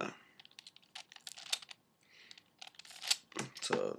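Fresh, firmly stuck stickers being peeled off a V-Cube puzzle, giving a run of crisp, crackling ticks and short tearing bursts close up, uneven in rhythm and with brief pauses.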